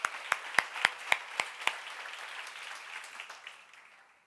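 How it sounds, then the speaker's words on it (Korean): A congregation at a church Bible lecture breaks into applause: about seven sharp, evenly spaced loud claps ring out at first, then settle into a steady wash of clapping that slowly fades away. "박수 좀 크게 쳐"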